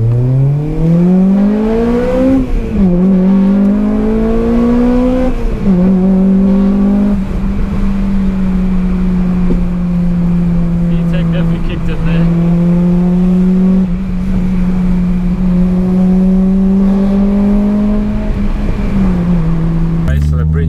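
Honda Civic Type R EP3 with a VTEC engine pulls hard through the gears, its loud, close engine note rising in pitch in long sweeps with brief dips at each gear change, continuous over about twenty seconds.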